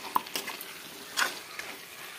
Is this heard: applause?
no